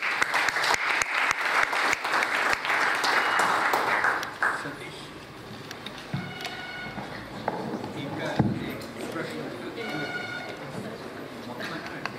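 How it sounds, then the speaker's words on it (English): Applause after a special lecture at a silver jubilee celebration, loud and dense for about four seconds before thinning into scattered claps, shuffling and murmured talk in the room. "big round of applause for Professor Rao"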